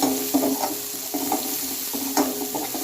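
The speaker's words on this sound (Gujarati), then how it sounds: "હવે નાખી દઈશું ડુંગળી મેં એક મીડિયમ સાઇઝની ડુંગળી લીધી છે" Finely chopped medium onion fries with garlic in a pan, giving a steady close sizzle broken by soft scraping bursts as it is stirred.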